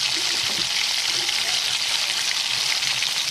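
Mixed vegetables with spices fry in hot oil, giving a dense, loud, continuous hiss that stays even throughout, with no voices.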